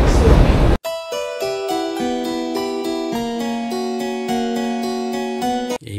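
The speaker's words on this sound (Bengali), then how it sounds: "ট্রেন বোধহয় আসছে মনে হয়" A metro train on line 6 at an underground station, its electric drive whining in a series of clear stepped musical tones that rise and hold over several seconds, loud and steady, with no voices.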